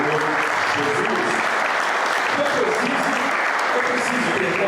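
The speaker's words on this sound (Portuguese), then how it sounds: "dê uma salva de palmas bem forte para o Senhor Jesus" Church congregation applauding during a sermon, a strong, dense and sustained wash of clapping at an even loudness throughout, with voices faintly mixed in beneath.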